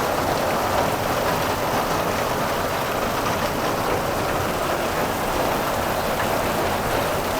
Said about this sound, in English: It's a lot of rain, which is good.